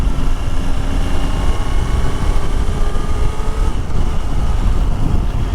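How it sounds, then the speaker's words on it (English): A 2025 Triumph Tiger Sport 800 motorcycle engine hums steadily and smoothly at cruising speed, with constant wind rush and a low, even drone throughout. "the engine is absolutely silky smooth"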